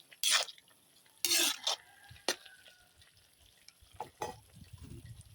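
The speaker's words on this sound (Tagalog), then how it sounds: "kumukulo na." A pot of sautéed mung bean sprouts with string beans and shrimp simmers on the stove, with soft bubbling and a few sharp clinks and scrapes of a utensil against the pot, close and moderately quiet, no talking.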